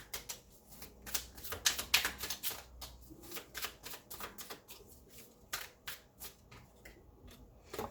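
Oracle cards are shuffled and drawn in a Leo tarot reading, a quiet, close patter of riffling and flicking cards in rapid uneven bursts with soft slaps as cards are pulled.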